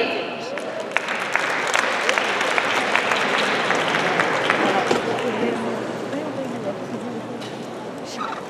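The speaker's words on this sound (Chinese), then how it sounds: "掌声有请" A large audience applauds at a student spring festival gala in Philadelphia, a dense, steady wash of clapping that holds for about eight seconds with scattered sharper claps standing out.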